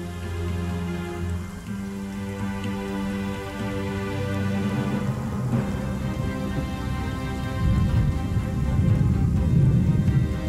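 Steady rain pattering on the ground at a desert waterhole, a continuous hiss with low rumbling underneath, swelling louder toward the end and mixed with a musical score.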